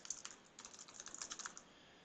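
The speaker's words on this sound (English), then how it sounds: "So we start by typing ng new and then the name of the app." Keys clatter on a computer keyboard as a terminal command for a new Angular app is typed, a quick uneven run of light clicks, close and quiet with no speech.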